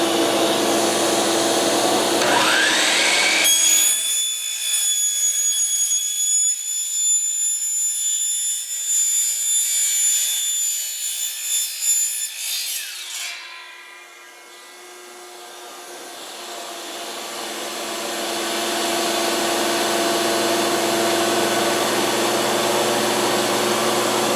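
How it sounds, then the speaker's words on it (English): A chop saw with its blade mounted backwards whines and screams through a cut in vinyl siding for several seconds over a loud vacuum roar, which dips briefly, then the vacuum swells back to a steady drone. "I'm cutting this in my chop saw, which is set up with the blade in backwards."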